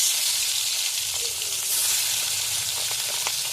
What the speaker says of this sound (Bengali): আগে আমি বেলে মাছগুলোকে ভালো করে ভেজে নেব।